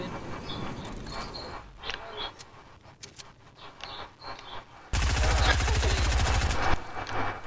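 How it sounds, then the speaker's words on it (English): Gunfire in the video game Fortnite: scattered distant pops and clicks under game ambience give way to a loud, sustained rapid burst of automatic fire lasting a couple of seconds. "There's someone shooting at you guys."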